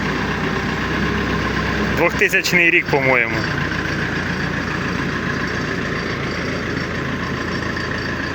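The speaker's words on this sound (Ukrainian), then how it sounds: "Двигун Перкінс вообще." An old tractor with a Perkins engine idles nearby in a steady low rumble throughout, with someone briefly speaking over it.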